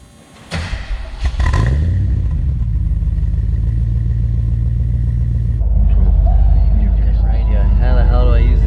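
A VP HSV Senator car starts off with a few thumps, then its engine settles into a steady low rumble, growing louder and deeper as it pulls away and accelerates.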